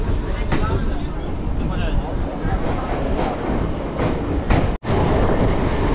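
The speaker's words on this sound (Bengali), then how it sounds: "আর এই হচ্ছে নৈহাটি স্টেশন থেকে ছেড়ে দিল আমাদের ট্রেন" A local train pulls out of Naihati station on the Sealdah line, with a loud, close, continuous rumble and rhythmic clatter of the carriages while voices murmur in the background.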